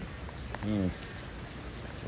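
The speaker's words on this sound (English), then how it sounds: "Oh, it's raining." Steady rain falls in San Jose del Cabo, a constant patter with a brief voice breaking in partway through and again near the end.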